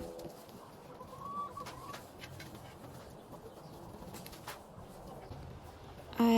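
Backyard chickens cluck and murmur softly at a moderate distance, with scattered bird calls over a steady outdoor background and no talking.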